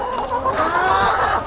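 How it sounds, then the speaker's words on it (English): Leghorn roosters on a farm during morning chores give a loud, close run of clucking calls that rises into a drawn-out squawk, with no talk over it. "You roosters be nice to each other."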